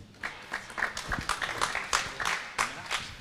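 Scattered, fairly thin applause from a conference audience at a transport trade show talk, irregular individual claps rising and falling over about three seconds, fairly quiet.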